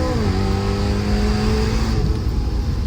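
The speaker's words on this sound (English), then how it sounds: "4-liter naturally aspirated V8. And arguably, it's the best sounding V8 you can get" A BMW M3's 4-litre naturally aspirated V8 drones loudly and steadily with rising and falling pitch as it revs, close by and continuous, then eases off near the end.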